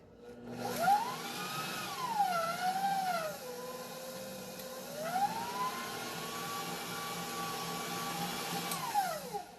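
A stand mixer with a beater whips keto cheesecake filling, its motor whine steady and close, sliding up and down in pitch as the speed changes, with no talking.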